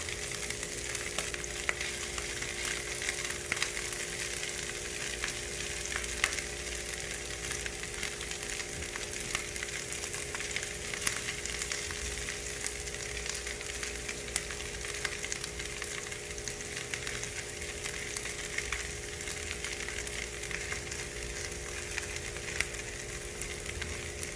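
Grated potato rösti fries in a lot of butter in a pan, giving a steady, even crackling sizzle that holds at moderate loudness for the whole stretch, with no voices.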